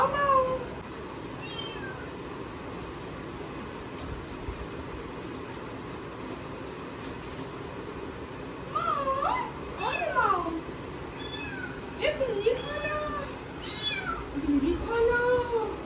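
A hungry house cat meows several times in short, rising calls that come in clusters toward the end, over a constant low background hum.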